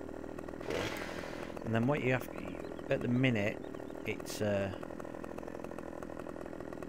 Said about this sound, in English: to activate your chainsaw, you scroll down or press number one